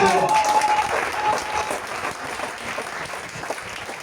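Church congregation applauding during a French-language sermon, a dense steady clatter of clapping that fills the space and slowly eases, with voices mixed in.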